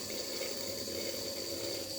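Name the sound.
water flowing through a pipeline from a motor pump in a science model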